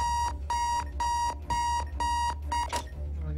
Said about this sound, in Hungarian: Nagyon megszólalta az ébresztő.